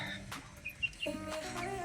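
Chickens clucking softly nearby while fed rice, a few short calls and chirps over quiet background noise.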